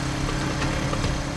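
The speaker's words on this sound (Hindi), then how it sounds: "ये कौन जा रहा बाइक पे?" A motorcycle engine runs steadily close by, a continuous mid-pitched drone with no clear fade-out, as a bike pulls away at night.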